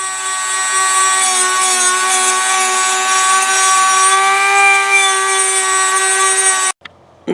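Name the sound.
filing or sanding metal gun part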